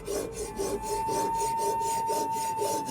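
A Japanese steel sword is sharpened with steady back-and-forth strokes, a close, even rasping rub repeating in a regular rhythm over a faint constant tone.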